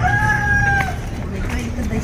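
A rooster crows once, close and clear, the call fading after about a second into steady background noise.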